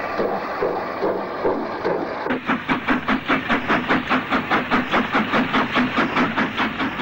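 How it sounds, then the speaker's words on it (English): GWR Hall class steam locomotive pulling empty stock out of a station, a steady rhythmic chuffing that starts after a softer hiss and settles into an even beat with faint clanking, fairly close. "A hall then removes empty stock from the station."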